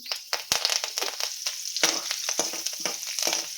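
Chana dal, mustard seeds, cumin and curry leaves fry in hot oil for upma, giving loud close sizzling with irregular popping and crackling bursts and stirring scrapes, no talking.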